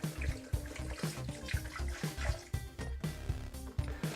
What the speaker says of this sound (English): I just dump it all into my blender.